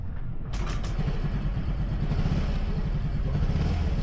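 A Yamaha Fazzio scooter is started, with a brief mechanical click and whir of the starter before the engine settles into a steady, low idle rumble close by.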